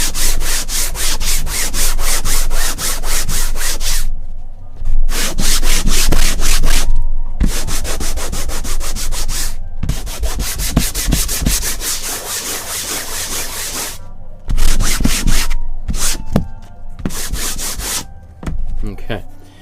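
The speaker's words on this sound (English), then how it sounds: "I'm going to use a little bit of a heavy sandpaper since this is really rough." Heavy 100 grit sandpaper rubs hard over rough painting canvas in fast, loud back-and-forth strokes, close up, running in long bursts separated by brief pauses.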